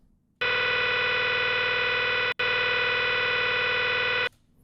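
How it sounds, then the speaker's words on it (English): A loud, dense factory machinery game sound effect loop, a mechanical drone with a steady pulsing rhythm runs continuously, briefly cutting out once before resuming, then stops. "Machinery loop, this one's interesting. As if your characters are in a factory,"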